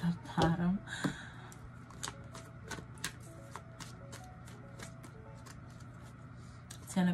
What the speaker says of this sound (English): I also have the Empress card after I get that little full shuffle